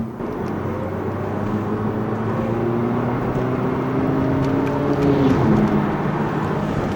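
A small German sports car's engine in sport mode drones steadily from inside the cabin, its low tone rising slightly in pitch as it accelerates, with no talking.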